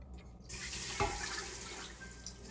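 Hot liquid from a cooking pot pours steadily into a container while making homemade cream cheese, a continuous rushing stream, close and even, after a brief quiet start.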